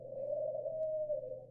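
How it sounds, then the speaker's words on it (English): A pigeon gives a single soft, drawn-out coo, low and mellow, heard alone against quiet surroundings. "Pigeon."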